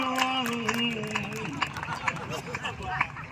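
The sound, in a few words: audience applause at poetry recital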